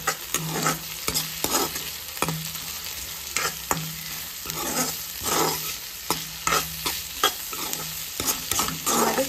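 Capsicum stirred and frying in a pan, a steady loud sizzle broken by repeated spatula scrapes and knocks at a fairly regular rhythm, close by with no voices.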